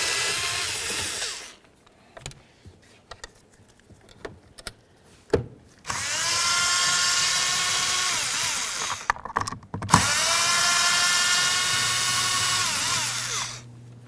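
A power drill backs screws out of a Ford Expedition door panel in two sustained whirring runs, each lasting a few seconds, separated by quieter clicks and handling noises.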